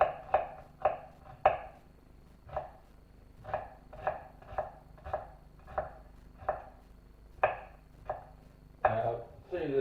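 A knife chops leeks on a board in a quick run of crisp, close knocks, about fifteen in all, spaced evenly with short pauses, with nothing else heard.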